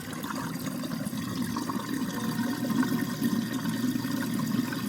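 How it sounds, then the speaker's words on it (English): Water rushes and gurgles steadily as it drains through a kitchen sink pipe and garbage disposal, a continuous moderate wash of sound with no voices. "the water is draining properly now, going through the garbage disposal"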